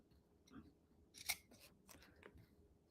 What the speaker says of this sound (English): But you're just going to sit here and snip.